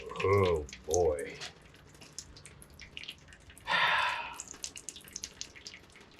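Transmission fluid drains from a 1968 Pontiac ambulance into a pan, a close, dripping, splashing trickle with a louder gush partway through. A voice is heard at the start.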